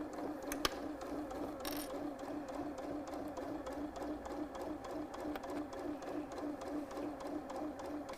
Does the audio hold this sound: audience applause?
no